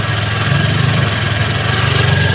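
Honda Click v3 scooter with an overheating problem idling close by, a steady low mechanical drone with even, throbbing pulses and no change in pitch.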